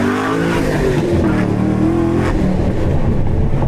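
A 2014–2015 Chevrolet Camaro Z28, a factory-built race car, revs hard with rising and falling engine harmonics. The loud, close, continuous roar has no talk over it.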